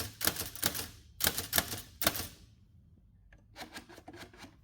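Keys clack on a 1920 Hammond Multiplex portable typewriter with a type wheel. Bursts of sharp, rapid strikes come close up, then a pause and a lighter, sparser run of keystrokes.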